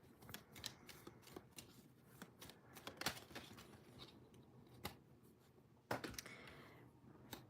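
Tarot cards being shuffled by hand during a live reading, giving soft papery riffles and flutters with sharper card slaps and taps scattered through, fairly quiet and close with no talking.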